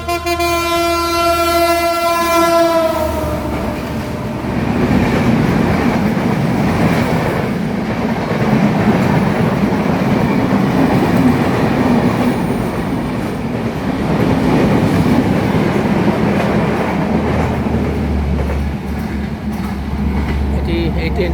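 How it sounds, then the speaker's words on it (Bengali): A train runs through Solop railway station without stopping, opening with a loud sustained horn, then a long steady rumble and rattle of cars passing close by, with no talk. "এই ট্রেনটি দাঁড়ায়নি, এই রেল স্টেশনে শুধুমাত্র লোকাল ট্রেনগুলো দাঁড়ায়।"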